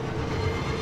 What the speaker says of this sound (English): Tram's here.